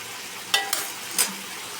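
Ivy gourd (telakuchi) leaves fry in a pan with a soft, steady sizzle, broken by three brief spatula scrapes or crackles. The sound is close but fairly quiet, and no one speaks.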